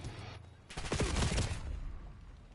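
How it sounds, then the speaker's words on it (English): A carbine fires a rapid burst in the shooter game Black Ops 7, several quick close shots running together into a dense rattle that fades into a short tail. "It's like a fast firing PDW."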